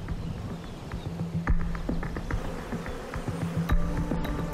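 Bees buzzing among flowers during pollination, a faint steady drone with scattered soft knocks and rustles in an open outdoor setting.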